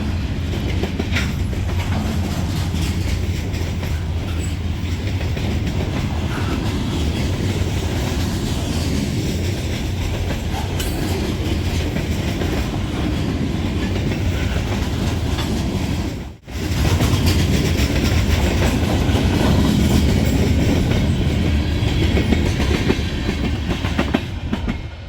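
A loud, continuous rumble of a long freight train rolling by close, with steady rhythmic clattering of wheels over rail joints and a momentary dip midway.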